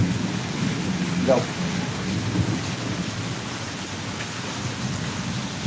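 Rain falls steadily with a low rumble of thunder in the background; a voice speaks briefly over it.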